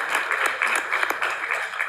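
An evening celebration audience claps together in a steady, dense round of applause that carries on throughout, close and fairly loud, with no voices on top.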